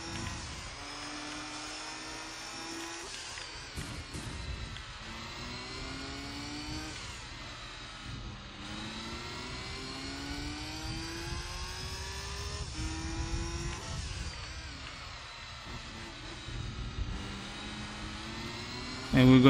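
Racing car engines in Gran Turismo 3 during the Amateur League Dream Car Championship race against a Honda S2000 and an Alteza. The engines whine and rise through repeated gear shifts and hold a steady roar throughout, with a voice talking over them.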